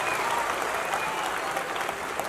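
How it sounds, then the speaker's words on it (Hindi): A crowd at a school annual day function claps for Ajay Kaul sir, steady dense applause at moderate loudness throughout, with no voices standing out. "एक जोरदार तालियां अजय सर के लिए।"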